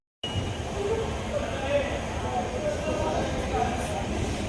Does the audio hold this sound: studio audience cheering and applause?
no